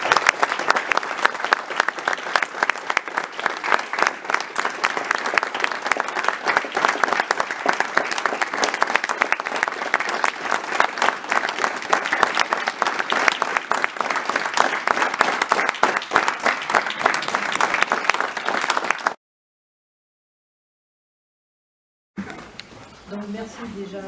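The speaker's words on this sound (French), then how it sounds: "Merci de l'applaudir pour ses 30 ans de service." Sustained, even applause from an audience honoring a woman's 30 years as an association president runs strong and continuous for about nineteen seconds, cuts to silence, then speech resumes.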